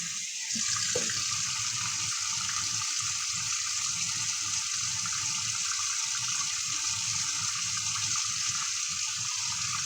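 Tap water runs continuously into a sink while a Cornish hen is rinsed, a steady close hiss with faint handling clunks underneath.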